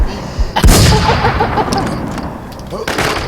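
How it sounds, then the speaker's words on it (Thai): Machine gun fire in the WarZ video game comes as loud, close bursts with sharp booming shots and a rattling spray, repeated twice. "เขาใช้ปืนกลครับผม"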